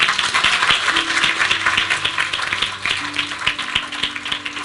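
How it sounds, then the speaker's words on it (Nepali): An audience claps for a young girl, a fairly close burst of scattered, uneven hand claps rising and thinning over several seconds. "ल ताली बजाउनु नानीको लागि।"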